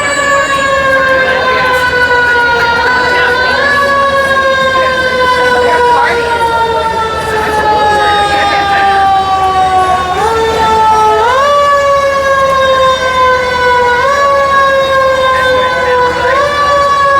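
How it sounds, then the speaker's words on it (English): A fire truck siren wails loudly in a steady rising and falling pattern as it passes along a Nashville street near the Music City Walk of Fame, with traffic rumbling underneath throughout. "I'll let the fire truck pass by here."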